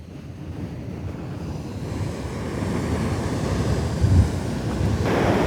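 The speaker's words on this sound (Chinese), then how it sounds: "海浪很大。" Large ocean waves break and roll continuously along the South African coast, a steady loud surf roar with wind buffeting the microphone and a slight swell in intensity toward the end, no voices.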